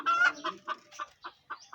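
A chicken clucks up close, an opening drawn-out note followed by a series of short, evenly spaced clucks.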